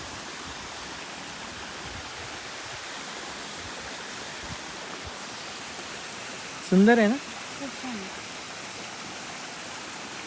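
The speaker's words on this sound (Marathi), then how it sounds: "इतकं मोठं झरा आहे" A large forest waterfall and stream rush as a steady broadband roar, with someone briefly speaking over it.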